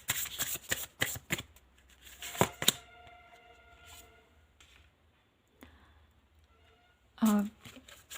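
Tarot cards being shuffled and drawn at close range, a rapid run of crisp riffling flicks, then a sustained soft ringing tone and a few scattered card handling sounds, with a short rustle near the end.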